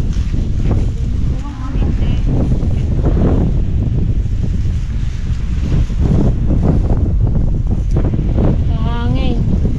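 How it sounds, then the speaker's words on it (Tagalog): Wind blowing hard across an open garlic field at harvest, a steady loud rush with microphone buffeting throughout, while people talk over it. "Hangin."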